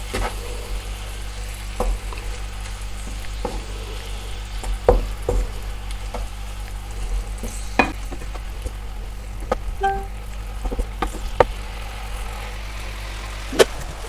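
Glass noodles with minced pork sizzle and crackle steadily in a hot pan as a spatula scrapes and stirs with occasional sharp clinks, over a low constant engine-like hum.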